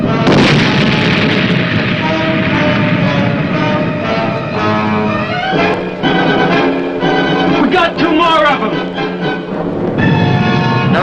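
Submarine torpedoes are fired electrically in a wartime TV series scene, heard as loud booming launch blasts with rushing water and mechanical clanks, dense and continuous over about eleven seconds, with brief interruptions and sharper bursts mid-clip.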